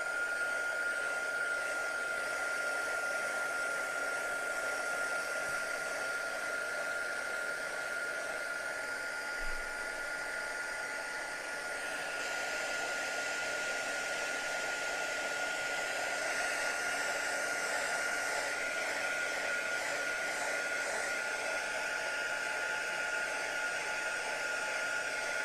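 A hair dryer blowing steadily to dry a crackle finish on a clock, a constant close whooshing roar with a whining tone that runs unbroken for the full stretch.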